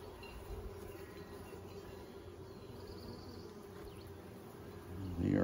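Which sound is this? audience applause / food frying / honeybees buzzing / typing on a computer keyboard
honeybees buzzing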